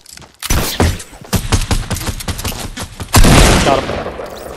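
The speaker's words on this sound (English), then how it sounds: "Hit him with my shotgun." Rapid bursts of shotgun and other gunfire in a Fortnite duo match, loud sharp blasts firing in quick irregular succession, ending in a heavier sustained volley.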